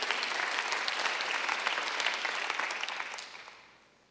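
A church congregation at a Sunday worship service breaks into dense, steady applause that holds strong, then tapers away over the last second or so.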